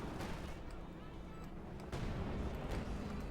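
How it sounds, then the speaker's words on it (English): Sturmpanzer assault gun firing on an anti-tank gun in the WWII strategy game Company of Heroes 2, heavy booming cannon blasts with dense battle noise, a louder thump near the midpoint, under a voice talking. "Sturmpanzer Stugi engaging the anti-tank gun."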